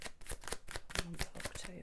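Tarot cards are shuffled and drawn in a quick, close riffle of soft papery slaps, about a dozen in under two seconds, with a faint voice murmuring underneath.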